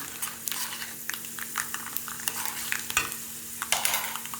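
Onion, capsicum, curry leaves and peanuts sputtering in hot tempering oil, a close crackling sizzle broken by frequent quick stirring scrapes and clicks of a spoon in the pan.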